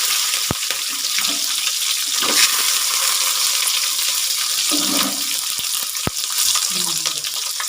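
Spices, fresh curry leaves and 200 grams of shallots fry in oil for a crab gravy, a loud, continuous, close hiss with a few sharp clicks and brief stirring scrapes.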